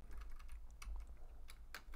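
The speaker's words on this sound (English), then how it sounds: "we can just type in the expression just like that" Keys on a graphing calculator pressed in a quick irregular series of clicks while an expression is entered, fairly close and alone over a low steady hum.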